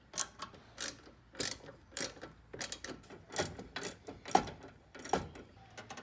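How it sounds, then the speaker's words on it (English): Ratchet tightening the air compressor mounting bolts on a 2006-2011 Mercedes W164 ML, a series of sharp clicking bursts repeating in an uneven rhythm with short pauses between, close and fairly quiet with no speech. "we'll just tighten up those mounting bolts now"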